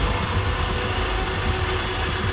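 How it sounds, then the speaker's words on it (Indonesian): A coffee grinder grinds beans as a radio drama sound effect, a dense, steady, rough whirring and crunching that stays loud and unchanging throughout. "Suaranya menyala seperti ada orang yang sedang menggiling kopi."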